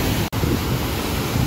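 Fast-flowing river water rushes in a dense, steady roar near the India-Bhutan border, close and loud, with only a momentary dropout and no voices.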